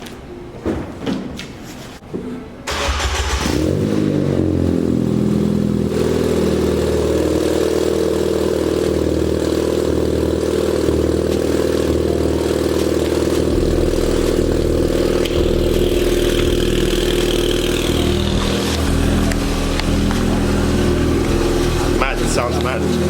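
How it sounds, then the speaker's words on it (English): A Ford Fiesta ST engine with a Scorpion exhaust cold starts, cranking and catching after a few seconds, then roars and settles into a loud, steady idle with a deep exhaust rumble. "I'm gonna give you guys like a little cold start."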